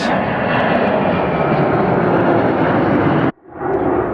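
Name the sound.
airplane taking off at Atlanta Hartsfield-Jackson airport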